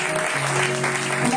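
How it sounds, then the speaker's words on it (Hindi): Church congregation applauding to welcome new visitors, a brief, dense burst of clapping at steady loudness, with faint tonal sounds beneath it. "सो नए चेहरों को हम भरपूर तालियों के साथ अपने चर्च में"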